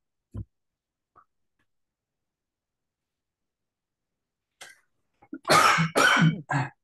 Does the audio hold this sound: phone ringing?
no